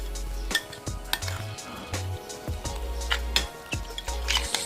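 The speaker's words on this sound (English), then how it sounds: "Stir it, stir it, stir it." Chimichurri sauce with white wine vinegar and oil being stirred in a bowl, heard as a close run of clinks and scrapes from the utensil against the dish, uneven in rhythm, with no voices.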